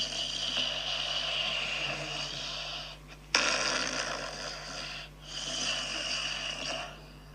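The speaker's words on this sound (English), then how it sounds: "You may think that this is just snoring" A sleeping person snores in a steady, loud, rasping rumble that runs nearly continuously, with a brief pause around three seconds and a shorter dip near five seconds.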